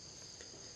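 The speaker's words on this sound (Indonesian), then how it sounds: "Didengarnya suara kodok dan jangkrik" Crickets trill in a steady, high-pitched chorus on a cool night, faint and continuous over a brief stretch; no frog calls stand out and no one speaks.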